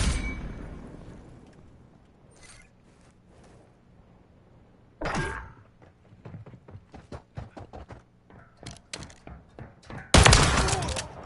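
Pistol gunfire in the video game Modern Warfare 3, sharp shots in irregular bursts, one loud shot near the middle and a dense final volley, with quieter clicks and footsteps between.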